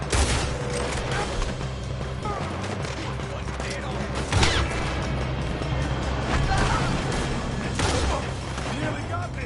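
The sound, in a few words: gunfire in a PS4 video game shootout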